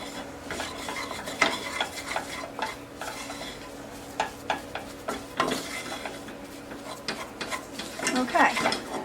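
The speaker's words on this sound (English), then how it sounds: "now we're just going to stir this until it's well combined and forms a dough" Pie crust dough for a pumpkin pie is stirred briskly in a bowl, giving repeated close scrapes and knocks of the utensil against the bowl in an uneven rhythm.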